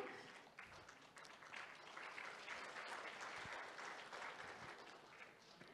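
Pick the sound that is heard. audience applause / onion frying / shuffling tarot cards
audience applause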